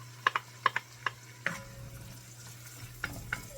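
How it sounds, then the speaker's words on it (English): Onion going into a pot for Key West conch chowder, with a few sharp scraping stirs of a spoon against the pot over a steady low sizzle and hum. There are clusters of clicks early on and then isolated knocks. "We're going to go in with our onion. It needs to get soft and happy."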